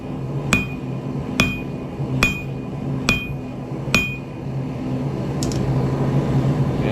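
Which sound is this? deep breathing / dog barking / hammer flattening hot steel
hammer flattening hot steel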